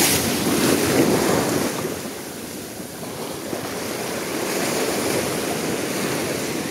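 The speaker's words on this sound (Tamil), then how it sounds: "இந்த அலை வந்துட்டு போனதுலேருந்து" Sea waves washing onto Poompuhar beach make a steady, broad rush of surf with wind noise on the microphone, swelling and easing a little, and no voices.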